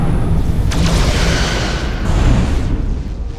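Photon torpedoes fire from a starship in the Star Trek Resurgence video game: a loud, sustained booming blast with rumbling, explosive bursts that roll on for several seconds.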